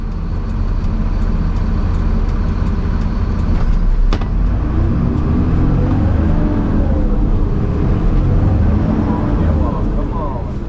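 A Mercedes-Benz Unimog U500 truck drives down a small street, its engine a loud, steady low drone with shifting pitch, while someone talks over it.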